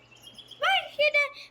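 Tropical bird sound effect played in the Scratch programming tool, a few quick bright chirps and whistles over a faint electrical hum.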